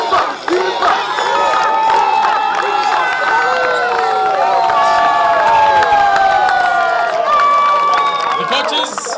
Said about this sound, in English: Once more, let's clap hands for the youngsters.